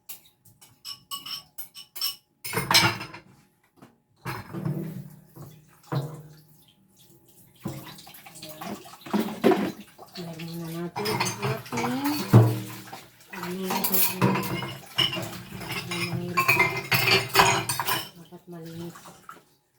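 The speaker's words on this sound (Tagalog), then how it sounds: "malinis ang ating area bago magluto. Maghugas lang muna tayo" Dishes and plates being washed before cooking, with running water, splashing and clinks of crockery and cutlery in a home kitchen, loud and near, with brief pauses, and no speech over it.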